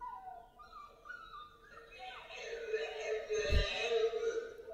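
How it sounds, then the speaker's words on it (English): A dog whines and yips in a rising, wavering howl, loud and close, with another voice or music-like tones mixed in and a sharp thump near the end. "That's a dog."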